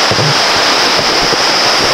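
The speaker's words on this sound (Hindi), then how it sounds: "तो ये इतना शोर दिखाई दे रहा है, आप लोगों को सुनाई दे रहा है, ये इस नदी का है।" A rushing mountain river near Gaurikund on the Kedarnath route, a loud, constant roar of churning water heard close up with no pause.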